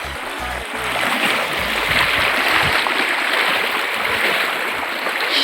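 Someone wades through fairly deep stream water, a loud continuous rush and splashing of moving water close by, with no talk.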